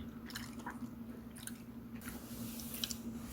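Someone eats injeolmi patbingsu, Korean shaved ice topped with red bean and injeolmi rice cake. The soft, wet chewing and squishing bites are quiet and close, with scattered small crunches and no talking.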